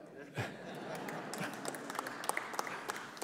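Audience applause for a human rights activist from Western Sahara, a steady wash of many hands clapping throughout, with a few sharper individual claps standing out near the end.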